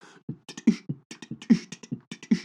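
A voice mimics a heartbeat with rhythmic mouth sounds in a steady, repeating pattern, close and clear.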